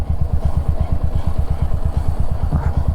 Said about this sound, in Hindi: मेरी बाइक से एक आवाज़ आ रही है चेन से